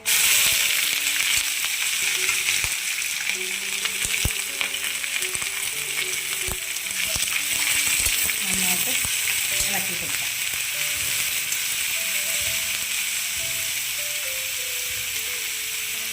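Sliced onion and green chillies frying in oil in a pan for an okra stir-fry, a loud, continuous crackling sizzle that stays steady throughout, close up with no one talking.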